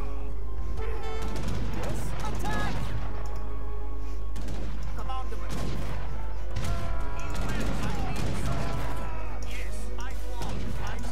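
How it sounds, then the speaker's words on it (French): Heavy cannon and gunfire in the strategy video game Age of Empires III, repeated booming blasts and crashes in a continuous battle din, with music and someone talking over it throughout. "le canon lourd là, il m'embête un peu quand même."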